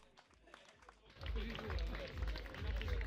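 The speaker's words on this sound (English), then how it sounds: "S'il vous plaît, applaudissements, le public pour notre deuxième du jour" A crowd at a mountain trail race finish in Verbier cheers and claps for the second-place runner, Lucille Germain, as sustained applause swells in suddenly after a quieter moment and continues loud and steady.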